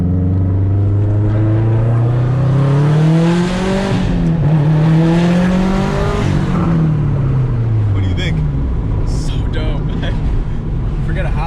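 A 2004 Subaru WRX STI accelerates hard through its gears, the engine note climbing and dropping at each shift, loud and close from inside the car.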